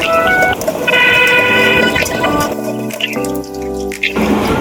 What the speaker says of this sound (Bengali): এখন দিয়ে দিচ্ছি পেঁয়াজ কুচি। তো এটাকে একটু ভালো করে ভেজে লাল করে নেব।